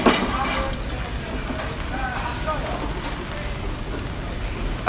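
Rain patters in a dense, continuous hiss on an umbrella held overhead during a muggy, hot walk through a Tokyo street, loud and close for a few seconds without a break.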